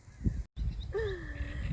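A crow caws once outdoors during a countryside breakfast in nature, a single drawn-out, falling call of moderate loudness over a soft background hush.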